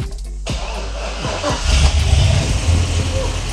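A Chevy Corvette with an unplugged O2 sensor cranks and fires up after a brief quiet moment, then settles into a loud, rough, close-up running rumble with a fan whirring.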